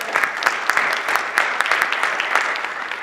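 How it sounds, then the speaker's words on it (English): An audience at a presentation gives a round of applause. Individual claps stand out clearly within the continuous, moderately loud clapping, and no one speaks over it. "Let's give these guys a round of applause."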